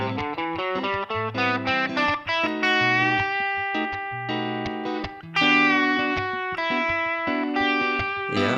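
Electric guitar with a distortion effect plays a run of sustained notes, some bending in pitch, each ringing out with a bright, harmonically rich tone and no talking.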